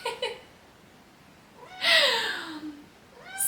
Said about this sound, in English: She's meowing because I think she wants to say hi.